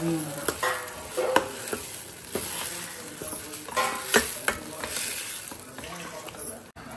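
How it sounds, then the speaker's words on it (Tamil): Tomatoes sautéing in a pan make a moderate sizzle broken by stirring scrapes, with a voice speaking over the cooking at times. "அப்புறம் தக்காளி நல்லா வதங்கணும்."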